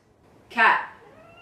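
A single cat meows once, close and fairly loud, a brief drawn-out call that rises and then fades against quiet room background.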